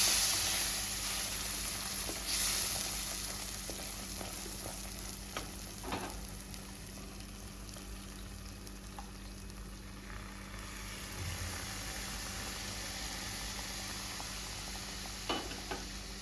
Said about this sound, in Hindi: ये गरम दूध है। मिक्स कर लेना है।